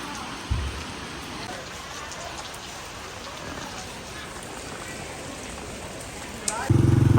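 Steady rain falling while someone walks outdoors to a market, a continuous close hiss of drops with a brief thump early and a louder burst at the end.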